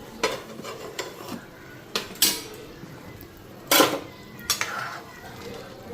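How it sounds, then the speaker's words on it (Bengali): A lid is set on a pot of simmering vegetable curry, giving a few short metallic clanks and clinks close by over a quiet kitchen background, with no talking. "এই তরকারিটার মধ্যে ঢাকনা দিয়ে নিই।"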